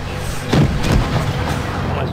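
In the World of Tanks video game, a tank cannon fires with heavy, deep booms, a couple of blasts in quick succession amid a low rumbling game background.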